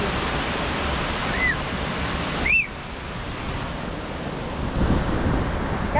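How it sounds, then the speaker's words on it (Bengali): Chitrakote waterfall in Jagdalpur, India, makes a steady, broad roar of falling water, with a few brief high chirps rising briefly above it. "এই হচ্ছে ওয়াটারফল, মানে আমরা পুরো দেখতে পাচ্ছি জলটা পুরো পড়ছে"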